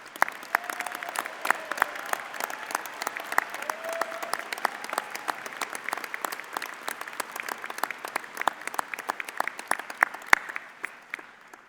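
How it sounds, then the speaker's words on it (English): Undergraduate midyear commencement crowd applauding graduates: dense, crackling clapping from many hands that runs steadily for about twelve seconds, fairly distant and even. "we're going to do a big round of applause for all of you that are standing"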